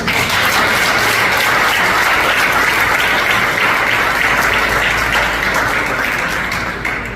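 A church congregation breaks into loud, sustained applause, a dense wash of clapping that holds steady for several seconds before easing off at the close.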